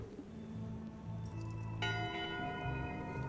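A ship's bell in the video game Return to Monkey Island rings once with a bright metallic strike whose tone lingers, over a low game background hum.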